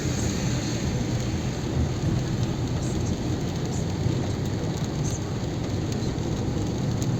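Steady, dense rain pours over a Delhi street, a continuous hiss holding at an even level throughout with no voices.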